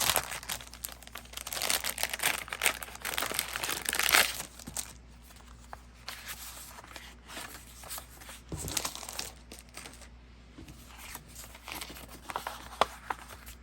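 Paper envelope flaps are folded and creased by hand for a journal, producing close, soft crinkling and rustling in intermittent bursts over a faint steady hum.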